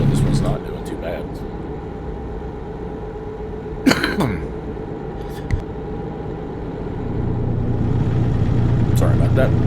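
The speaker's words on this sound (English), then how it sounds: "for a little day cab truck, probably a fairly small engine." A small day cab truck engine in American Truck Simulator runs with a steady low rumble that swells louder toward the end, and a cough breaks in briefly near the middle.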